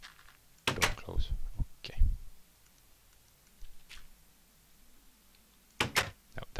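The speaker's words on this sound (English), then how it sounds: "Door close." A wooden door in a zombie survival video game closes with a couple of sharp clicks and thunks, followed by quieter knocks and a final burst of clatter.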